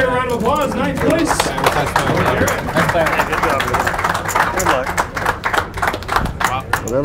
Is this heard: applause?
yes